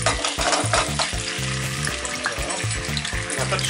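Tomato passata cooks in a pan with a dense, continuous sizzle and bubbling, broken by regular stirring scrapes, close and loud with no talk.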